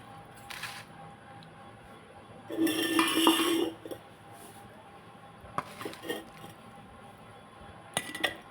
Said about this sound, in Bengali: আমি এবার বয়েমের মধ্যে ঢেলে দেবো